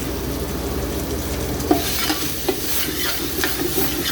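Liver frying in a pan: steady, close sizzling with occasional stirring scrapes and light clinks, continuous and fairly loud with no talking.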